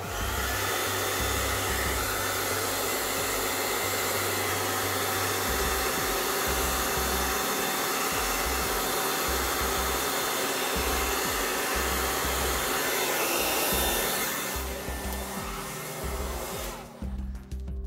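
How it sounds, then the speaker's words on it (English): A hair dryer blows steadily and loudly at close range on the edges of a matte black PS5 console plate, with a pulsing low hum as it is moved, then tapers and cuts off near the end. "it's probably a good idea to clean up the edges is to blow dry it"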